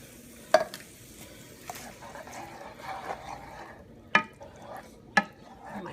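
Diced tomatoes from a 14.5-ounce can being stirred into cheeseburger pasta, with a few sharp utensil clanks against the pan over a soft wet mixing sound; a faint voice is heard briefly.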